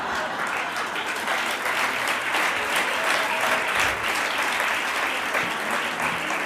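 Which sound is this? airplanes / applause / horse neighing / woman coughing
applause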